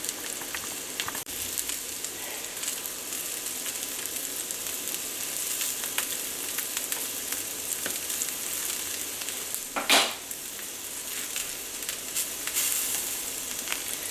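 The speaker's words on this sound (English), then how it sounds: "That one lime yielded about a tablespoon of lime zest. I'm going to go ahead and just add it to the pan." Lime zest sizzling in a hot frying pan alongside caramelizing bell peppers, a steady hissing fry with soft crackles and one brief louder burst of sizzle partway through.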